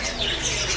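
Young tame parakeet squawking up close, a short burst of harsh, bright calls filling under a second with no talk over it.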